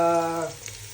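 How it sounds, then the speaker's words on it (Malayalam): Water poured into a hot pan of spices and onions, a brief loud gush with a harmonic tone that fades into a softer sizzle, all within a second. "അതിലേക്ക് വെള്ളം ഇതാ ഒഴിച്ചു കേൾക്കുന്നു"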